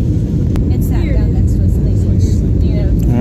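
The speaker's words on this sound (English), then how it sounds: "You hear this plane? A plane full of people hitting Vegas all the way live." Cabin of a full passenger airplane descending into Las Vegas, with a loud, steady low engine and air rumble filling the whole stretch and faint brief sounds on top.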